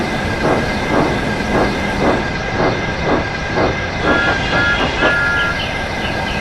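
Rhythmic clickety-clack of an animated Thomas & Friends breakdown train rolling in, steady wheel beats over a continuous hiss and rumble, loud and close with no talking.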